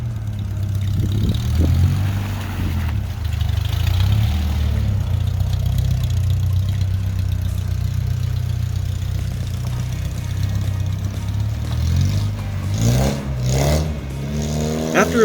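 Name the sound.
1985 Toyota pickup truck engine running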